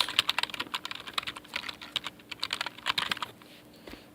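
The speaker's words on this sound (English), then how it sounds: "Type in your URL that you want to use." Rapid typing on a computer keyboard, close and clear, with bursts of key clicks that pause briefly and resume, and no voices.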